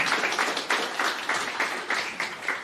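Audience at a startup panel event giving the panel a round of applause, a fairly faint, steady clapping with rhythmic pulses that run evenly to the end.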